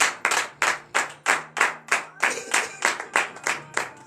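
Rhythmic congregation clapping during a church morning prayer service, in a steady beat, about three claps per second, full and close, with a faint low hum underneath.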